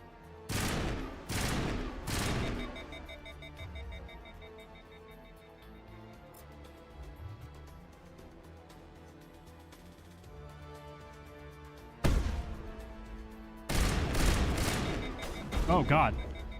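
Shotgun blasts in the Mass Effect video game, Virmire mission: a quick run of three loud booming shots, then a stretch of quieter game sound, then another cluster of heavy blasts near the end.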